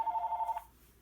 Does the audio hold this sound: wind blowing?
no